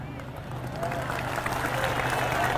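Jamaah at an Islamic religious lecture applaud together, a thick, steady wash of clapping filling the hall from start to finish with crowd murmur mixed in.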